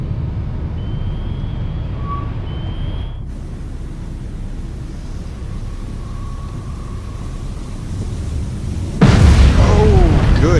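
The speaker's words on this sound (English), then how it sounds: "Torpedo 1, impact." Torpedo striking a ship and exploding in the submarine game Cold Waters: a steady low rumble of ambience, then a sudden loud, booming blast near the end that stays heavy and rumbling.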